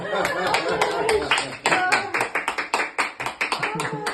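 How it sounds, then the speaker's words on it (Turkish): Clapping hands at a surprise birthday celebration, a steady run of sharp claps building in the second half, with voices and singing mixed in throughout. "Alkış"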